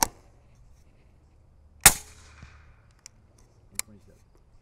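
A single suppressed subsonic 8.6 Creedmoor rifle shot fired through a 12-inch barrel and Q suppressor gives a sharp, fairly quiet crack, followed by a few faint metallic clicks.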